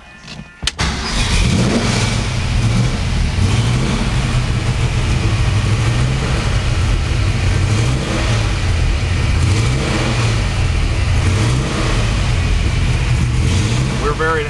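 A big V8 engine in a 1967 Mustang Shelby GT500 recreation fires up with a sharp crank, then settles into a loud, steady burbling idle punctuated by several deep rhythmic revs, close by.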